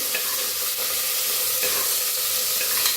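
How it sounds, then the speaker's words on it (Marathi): Loud, close sizzling of crushed garlic and ginger paste frying in hot oil, a bright continuous hiss with occasional spatters and stirring scrapes. "कुटून घेतलेला लसूण आणि अर्धा चमचा अद्रकची पेस्ट घालून भाजून घेऊया"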